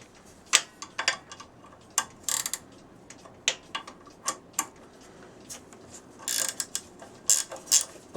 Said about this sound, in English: all I've got is just a ratcheting wrench